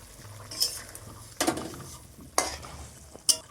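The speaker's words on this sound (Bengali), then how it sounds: "ঝোলটাকে খুব ভালোভাবে ফুটিয়ে নিয়েছি এবার ভেজে রাখা মাছগুলো দিয়ে দিচ্ছি" Fried pieces of chital fish go into a boiling curry as a Bengali kaliya cooks, with a few sharp clinks and splashes at intervals over a low background simmer; no one speaks.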